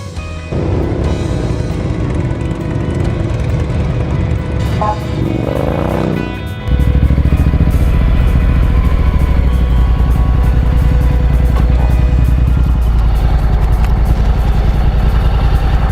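A Honda NM4 Vultus motorcycle rumbles along while being ridden, its engine note steady and loud throughout, swelling heavier about halfway in as speed builds, with wind and road noise layered over the continuous drone.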